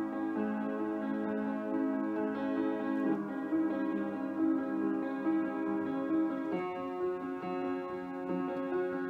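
A child plays a song on piano, sustained harmonic tones ringing continuously at moderate level with note changes throughout and no talking.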